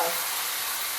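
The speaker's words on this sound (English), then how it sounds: "I'm gonna pour all my meat in here" Marinated pork hits a hot pan with a loud, steady sizzle and steamy hiss, broadband frying noise holding even and close for about a second, with no voices.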